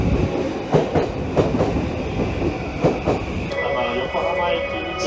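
Yokosuka line train running on the Tokaido tracks toward Yokohama, its steady rumble and clickety-clack of wheels over rail joints heard from onboard, with faint voices in the background.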